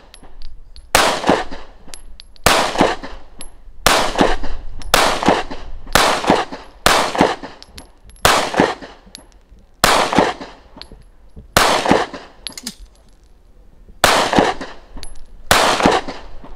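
Pistol shots fired on a shooting range at an Israeli training facility: about twelve loud, sharp reports spaced roughly one to two seconds apart, each with a short ringing decay.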